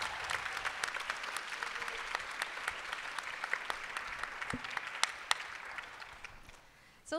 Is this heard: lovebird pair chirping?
no